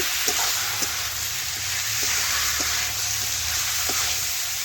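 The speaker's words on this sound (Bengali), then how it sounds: "এখন নাড়াচাড়া করে মশলার সাথে আবারও একটু রান্না করে নিচ্ছি বা কষে নিচ্ছি" Boiled jackfruit cooks down with spices in a pan, giving a soft, even sizzle with occasional light stirring taps, close and steady with no talk.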